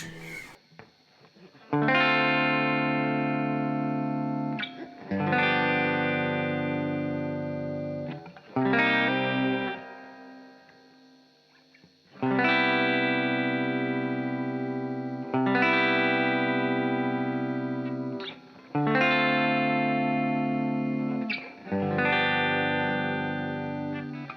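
Distorted chords from a Les Paul electric guitar on the bridge pickup ring out in six or seven sustained strums, each left to decay before the next, loud and close with heavy effects and reverb.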